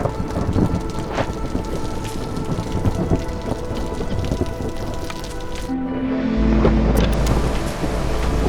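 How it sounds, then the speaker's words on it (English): Heavy rain hisses steadily while deep thunder rumbles build and swell toward the end, a continuous storm in the city-building game Against the Storm, with no talking. "Okay, now we're in the storm."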